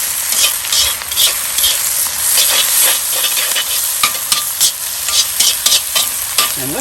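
Food stir-fries in olive oil in a Lodge wok over a Weber charcoal grill, a loud close hissing sizzle punctuated by rapid scraping and tossing strokes of the utensil.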